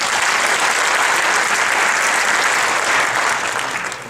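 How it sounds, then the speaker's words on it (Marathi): Loud, dense audience applause fills a Kojagiri celebration concert hall for the singers, steady and sustained before tapering off at the end. "आतापर्यंत जेवढ्या गायकां गाऊन गेले त्यांच्याकरता एकदा जोरदार टाळ्या होऊन जाऊ द्या."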